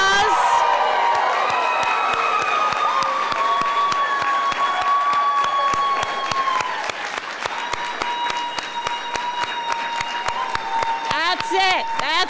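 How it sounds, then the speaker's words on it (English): A graduating practical nursing class gets a loud, sustained round of applause and cheering at a pinning ceremony, with whoops and shouts over steady clapping for about twelve seconds and voices chattering throughout. "So can I have a really ruckus round of applause?"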